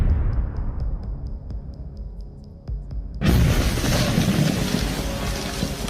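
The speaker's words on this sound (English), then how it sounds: "Even with explosions landing just feet from Ukrainian trenches" A deep boom from artillery shells landing near Ukrainian trenches, followed by a loud sustained roar of blast and debris after a quieter stretch with faint rhythmic ticking, heard close and without speech.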